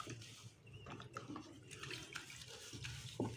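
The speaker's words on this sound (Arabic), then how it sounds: "دي ميه كده عاديه من الحنفيه" Tap water running from a faucet while soap lather is worked up on a scouring pad, a faint continuous splashing hiss with small knocks and handling noises.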